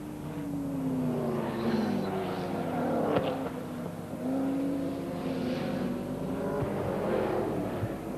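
Holden A9X Torana race cars lap a circuit, their engines droning and rising as the cars pass at a moderate distance over steady background noise.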